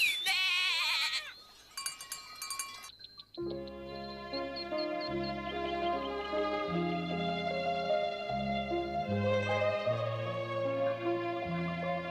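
Goats bleat in a shaky, wavering burst at the start in an Alpine pasture of an animated scene, followed by steady tonal music that continues to the end.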